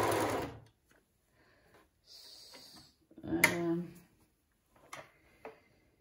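A Pfaff Hobbymatic 907 sewing machine that skips stitches runs in short, quiet bursts with pauses, and a person talks between the runs.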